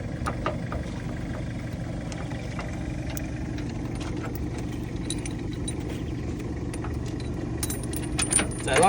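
Metal trailer safety chain links jangling and clinking as they are handled near a car, a steady low engine idle running underneath, with louder rattling toward the end.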